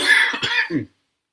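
A single close cough with a harsh throat-clearing quality, a few quick bursts ending abruptly, followed by silence.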